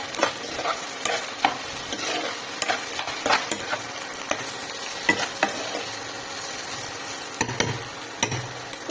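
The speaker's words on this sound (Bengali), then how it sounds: "প্রথমে এই সবজিগুলো আগে ভাজা হোক" Vegetables sizzle and fry in a pan for vegetable chowmein, a steady close crackle with repeated scraping and tapping of a spatula stirring, no voices.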